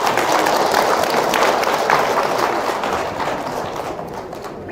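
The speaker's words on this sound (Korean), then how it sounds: "뜨거운 박수로 맞이해 주시기 바랍니다" Sustained applause from a lecture audience greets a health-talk speaker, a dense continuous wash of clapping that holds steady, then thins slightly toward the end.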